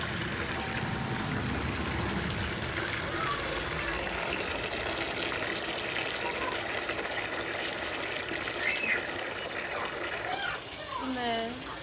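Water refilling a chickens' drinking container during farm chores: a steady, close gushing stream runs throughout, with faint vocal sounds showing near the end.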